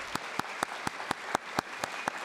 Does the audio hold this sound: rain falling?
no